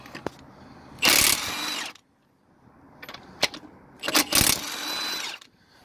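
Impact wrench bursts loosening and spinning off lug nuts on a Mercedes AMG GLE wheel, two loud buzzing whirs of about a second each with sharp clicks and clatter of nuts in between, close by.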